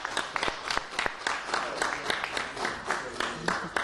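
An audience claps at a Brazzaville event celebrating the Sapeurs, dense applause with sharp individual claps standing out, fairly distant and even.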